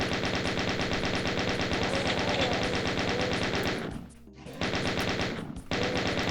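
Steady, rapid machine gun fire from Illuminatus hammers on without a break, goes quiet for a moment, then resumes in close, loud, even bursts.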